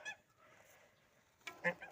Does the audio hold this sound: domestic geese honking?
yes